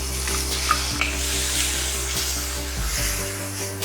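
Crushed shallots, garlic and red chilli fry in hot oil for a Kerala-style dal curry, giving a steady, close sizzle with a low hum beneath it and a few small clicks and pops.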